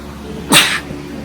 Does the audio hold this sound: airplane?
no